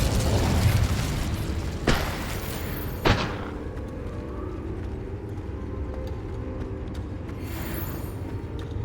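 Incendio fire spell cast in Hogwarts Legacy, a loud whooshing burst at the start followed by two sharp impacts a second apart, then a lingering low rumble of fire fading out.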